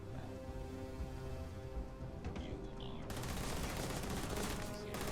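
Gunfire in the video game Starfield: a sustained, loud rattle of rapid shots fills the clip, growing denser and harsher after about three seconds, under heavy game noise.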